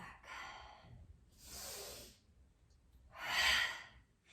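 Slow, deliberate yoga breathing: three audible breaths, soft airy inhales and exhales rising and falling in a steady rhythm, close and fairly quiet.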